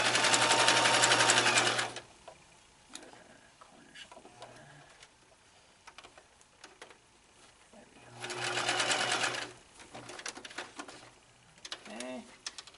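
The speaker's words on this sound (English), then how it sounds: "I'm trying to sew right on the fold." A sewing machine stitches bias tape onto an Elizabethan doublet in two loud bursts of fast, close whirring, separated by a quieter stretch where a person talks.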